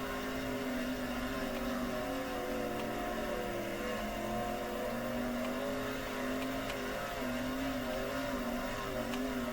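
Simulated sprint car engine from the World of Outlaws 2023 racing game, running on a dirt oval practice lap, a steady loud droning roar with slight pitch wavering as the car circles, no voices.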